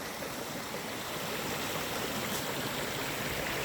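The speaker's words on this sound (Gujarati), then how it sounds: "ટપક ટપક ટપક ટપક જલ મહાદેવજી ઉપર અવિરત સતત ધારા થતી રહી છે" Continuous splashing water pouring steadily onto a stone Shiva shrine in the Girnar forest, a dense even wash of sound close by with no talking.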